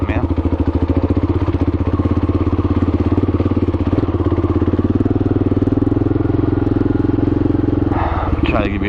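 Kawasaki KLR650 single-cylinder motorcycle engine running steadily while riding, a loud continuous throbbing drone with rider talk layered over it throughout.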